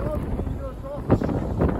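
Gusty wind buffets the microphone with low rumbling roar, steady and close, with a few stronger bursts.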